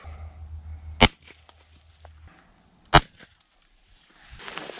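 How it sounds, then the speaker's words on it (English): A 12 gauge shotgun fires rubber bullets at a knife blade: two sharp, loud single blasts about two seconds apart, separated by quiet stretches with a faint low hum at the start. "Some raw bullets. With a shotgun. 12 gauge."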